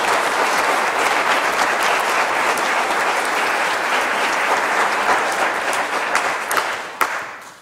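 Graduation ceremony audience giving sustained, dense applause with loud, steady clapping that holds for several seconds and then tapers off at the end.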